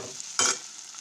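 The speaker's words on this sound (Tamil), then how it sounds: "இப்போ இஞ்சி பூண்டு பேஸ்ட்டு போட்டுக்கலாம் கொஞ்சம்." Ginger garlic paste frying in a pan gives a faint steady sizzle, with one short, louder stirring or scraping burst in the middle.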